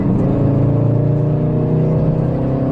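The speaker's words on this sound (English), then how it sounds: "if I step on the gas, you can hear the engine roaring" A 2018 Volkswagen Golf R MK7.5 engine droning steadily and loudly under throttle, a continuous close-up roar with no talk.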